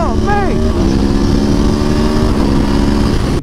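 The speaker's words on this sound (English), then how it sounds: "that V4 engine is absolutely awesome" A V4 motorcycle engine revs up sharply then settles into a loud, throaty drone, close by, with a slight dip near the end.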